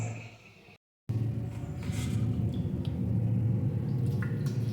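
Water pours and splashes over a small Gopal deity idol being bathed in a vessel, a continuous close trickle and patter with a few brief drips.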